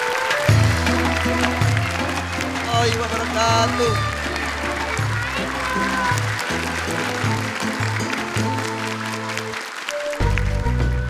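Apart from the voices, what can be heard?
audience applause on stage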